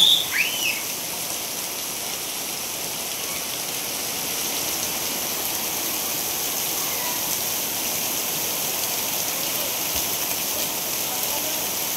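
Steady broadband hiss of rain falling, continuous and fairly loud throughout with no breaks, like a downpour on surfaces nearby.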